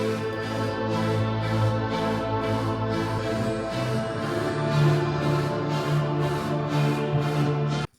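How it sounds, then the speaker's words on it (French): A small Chinese guitar sample in a home-studio remix plays a steady, bright plucked pattern over a sustained rhythmic backing, heard for several seconds before cutting off abruptly. "La petite guitare chinoise là, ça fait ça."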